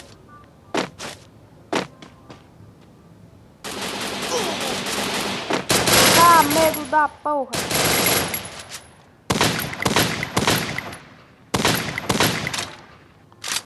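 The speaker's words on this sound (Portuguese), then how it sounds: "Os tiros passaram tudo na orelha." Several gunshots come in separate close, loud bursts, some single cracks and some rapid volleys, with short gaps between them. A man swears in between, and another voice talks under the shots.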